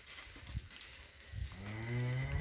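One young bull lets out a single low moo that rises near the end of a short stretch of faint outdoor background. There are no voices.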